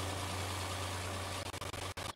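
A small yard tractor engine idling nearby, a steady low hum that cuts out in a few brief dropouts near the end.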